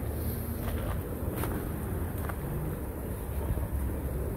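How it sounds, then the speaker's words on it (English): A 2014 Chevy Cruze LS automatic with 85,000 miles and a recent thermostat service idles with its hood open, giving a steady, close, even rumble and hiss with no breaks. "Engine sounds great."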